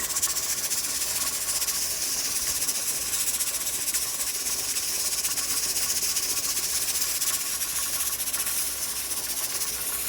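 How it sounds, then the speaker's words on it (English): A pressure canner's jiggler weight hissing steadily at 10 pounds of pressure on an electric stove, a loud, even stream of steam noise that holds unbroken throughout. "Here's what the jiggler sounds like"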